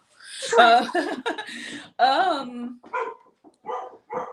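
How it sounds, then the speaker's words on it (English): A dog barks in several short, sharp bursts, fairly close and loud, spaced unevenly and mixed with voiced yips in a home setting. "the dog is about to go crazy"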